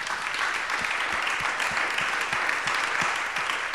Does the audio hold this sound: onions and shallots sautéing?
no